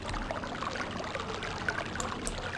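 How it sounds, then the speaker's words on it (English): A small waterfall in the realMYST video game gives a steady, even wash of splashing, rushing water that stays constant throughout, with no talk. "Got a lovely little waterfall of sorts."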